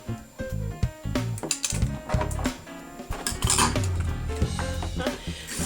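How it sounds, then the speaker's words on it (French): Large kitchen knife cutting the fins and tail off a big scaled fish, with busy clattering knocks and scraping against a board and dishes, a steady run of close, fairly loud impacts. "C'est un gros couteau qu'il faut pour couper les nageoires. Je coupe là. Je coupe la queue."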